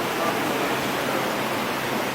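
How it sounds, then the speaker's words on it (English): Floodwater rushes during heavy flooding in Jamaica, a dense, steady broadband roar of flowing water close by, uninterrupted for the whole stretch. "There's water coming in my room and all"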